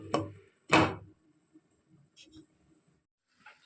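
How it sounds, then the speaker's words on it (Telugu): A lid goes onto a cooking pot with two close, sharp clatters in quick succession, followed by faint kitchen rustles and taps. "ఇంకొద్దిసేపు మళ్ళీ మూత పెట్టేసుకుందాం."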